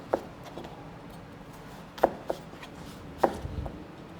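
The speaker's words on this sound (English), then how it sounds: "So first up, we're going to cut our chips." Knife chopping potatoes into chips on a board for Gazi chips: a few sharp, separate cuts spaced irregularly, close and fairly quiet, with no talking.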